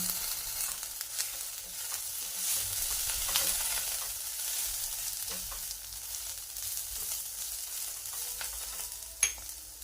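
Coriander with its stems frying in roasted masala for an onion-garlic-free spice paste: a continuous bright sizzle with occasional stirring scrapes and one sharp clink near the end, close and steady, with no talking.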